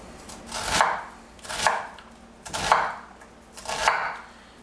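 A knife chops vegetables finely on a cutting board in four evenly spaced, crisp strikes, each a sharp thunk followed by a short decay, up close with no voices.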